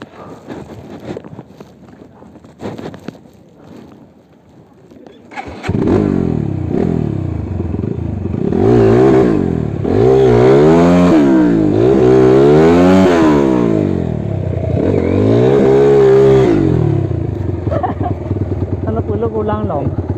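A trail motorcycle stuck on tree roots on a forest track revs hard in loud, rising and falling bursts after quieter clattering at the start, while riders talk over the engine.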